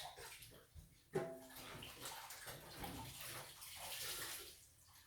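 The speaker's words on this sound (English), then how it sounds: "Let me give my hands a quick wash." Hands washed under a running kitchen tap while making sweet potato pie, steady splashing water close by with a brief clunk near the start.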